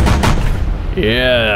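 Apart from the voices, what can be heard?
gunfire shooting down a UFO in video game UFO: Extraterrestrials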